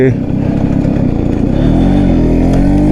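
A Yamaha RX100 two-stroke motorcycle engine revs with a rapid, buzzing pulse nearby, its pitch rising toward the end, while someone talks over it.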